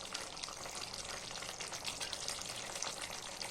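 Broccoli sabzi sizzles and fries steadily in a pan with sabzi masala, a continuous close crackle with faint stirring scrapes and no talking.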